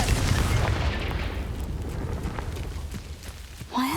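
A Confringo spell blast in Hogwarts Legacy erupts as a loud, rumbling boom that fills the opening and slowly decays into a low roar, with a brief voice near the end.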